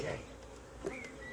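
Honeybees buzz close by around an open hive during an inspection, a brief, steady drone with individual bees passing near.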